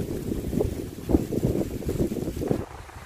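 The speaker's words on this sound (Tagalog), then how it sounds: "Medyo mahangin siya, guys." Gusts of wind buffet the microphone at a clean, tree-lined seaside park in Jubail, Saudi Arabia, a continuous low rumbling roar that swells and eases over a few seconds.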